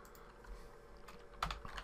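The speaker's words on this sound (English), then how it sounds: "what we'll do is we'll type in here" Quick burst of typing on a computer keyboard, soft close keystrokes clustered over about two seconds, with a louder cluster near the end and no voices.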